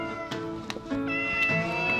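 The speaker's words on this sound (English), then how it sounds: "We got a cat, we can start to pet him now." A cat meows loudly and close by in a few quick, drawn-out calls, alone with no talk.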